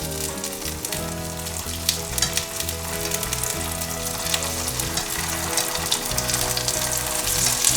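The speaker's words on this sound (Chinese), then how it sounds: "把豆腐放进来，慢慢的煎。" Tofu pan-fries slowly in hot oil, giving a steady, close sizzle and crackle with small pops throughout, with no talking.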